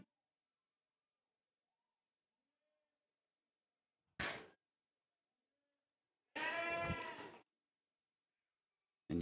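Poll Dorset sheep in a show shed at a championship, heard as two short bleats several seconds apart against near silence, the second louder and longer.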